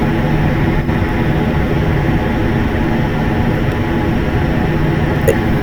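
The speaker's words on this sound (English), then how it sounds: "This train accelerates at a 221. It starts off slow, then it picks up speed." A Class 221 train in a video game pulls away, a steady heavy engine drone and rail rumble holding at close range without pause.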